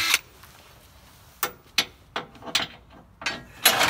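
A hand ratchet clicks in short, uneven bursts while driving a long bolt into the lower control arm of a Ford Transit van during a lift install, crisp and close in a quiet space.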